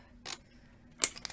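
Scissors snip through chipboard in two crisp, close cuts about three quarters of a second apart, the second snap sharper and trailing a brief rustle.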